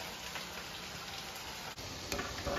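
Chicken popcorn deep fries submerged in hot oil, a dense continuous sizzle heard up close and steady throughout, with no one speaking.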